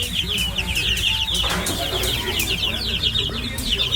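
Chickens clucking steadily nearby, with a busy chorus of repeated high clucks over low background noise and faint talk.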